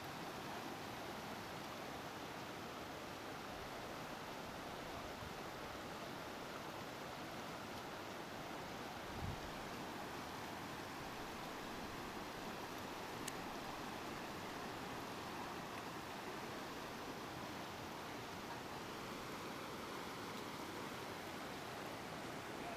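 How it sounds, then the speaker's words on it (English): Albertine Creek rushing along a mountain valley, a steady, loud broadband wash of flowing water that continues unbroken and without voices. "Lynn and Stefan going across Albertine Creek"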